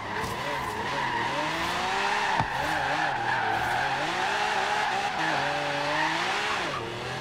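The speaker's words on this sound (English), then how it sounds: "That was a good drift, actually." A car drifting in Forza Horizon 3 keeps its tires squealing continuously for several seconds, with the engine note rising and falling underneath and a brief thump midway.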